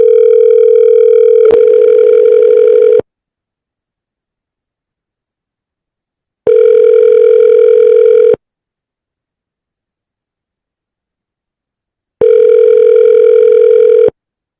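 Ringback tone of an outgoing telephone call, heard as three steady electronic tone bursts of about two seconds each, separated by roughly four seconds of silence, clear and alone.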